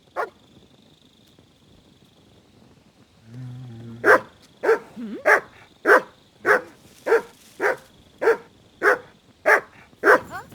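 A dog in the medieval game Kingdom Come: Deliverance 2 barks on command: after a brief whimper, a steady, evenly spaced series of about a dozen loud, close barks follows.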